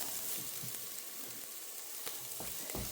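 Onions sizzle in bacon fat in a pan for a keto soup, a soft steady crackle with a few louder pops and stirring scrapes near the end.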